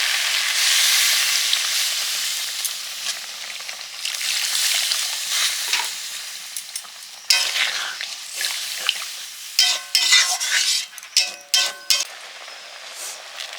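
Water goes into a hot pan of cooking ridge gourd with ground peanut paste, hissing into a loud sizzle that settles into steady frying, then close scraping and clinking stirring toward the end.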